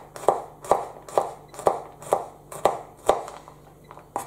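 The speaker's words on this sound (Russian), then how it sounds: "Нарезаем чеснок." Garlic being chopped with a knife on a board for carrot and parsnip soup: about nine sharp, evenly spaced close knocks, steady and alone without talk.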